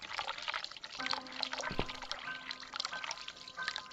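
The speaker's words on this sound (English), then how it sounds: "I can hear the water running." Running water in the video game The Cat Lady, a soft trickling and splashing flow with faint drips, quiet and steady throughout with no talk.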